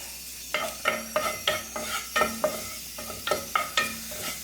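Curry leaves and turmeric powder stirred in hot oil for egg curry: a soft sizzle underlies a regular series of close spoon-on-pan scrapes and knocks, about a dozen in quick rhythm.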